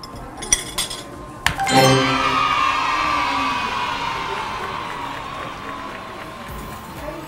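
Glasses clink together in a toast at a Michelin-recognized eatery, a few sharp chimes followed by a lingering ring, with crowd noise behind.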